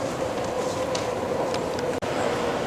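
A Budapest metro train pulls into an underground station, a steady loud rumble of wheels and motor that stays constant throughout, with no talking.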